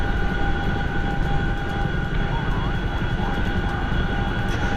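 Simulated Chinook twin-rotor helicopter in a flight simulator game, a steady loud engine and rotor drone with a constant whine running throughout at high speed, no talking over it.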